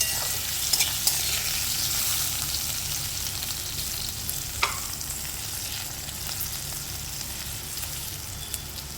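Potatoes fry in a pan for a Bengali rui fish head and poi greens dish, with a steady sizzle and occasional clinks and scrapes as they are stirred.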